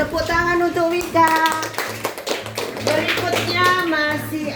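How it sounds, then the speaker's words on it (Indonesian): Sixth-grade pupils in an elementary school classroom clap for a classmate in steady, rhythmic applause mixed with children's voices and chatter. "Tepuk tangan untuk Wika."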